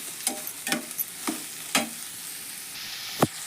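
Cabbage and capsicum stir-fry in oil, with a handful of sharp scraping stirs spaced across a few seconds over a soft, steady sizzle, the last stroke loudest.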